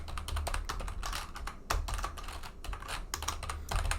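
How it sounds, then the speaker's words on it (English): Code being typed on a computer keyboard, with rapid, uneven clicking keystrokes and a few heavier key thumps, fairly close and quiet, with no talk. "We would type our code in here."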